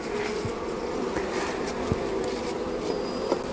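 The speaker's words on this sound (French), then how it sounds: "je repousse les abeilles du bord" Honeybees swarm around an open hive, making a continuous close buzz with individual bees zipping past now and then.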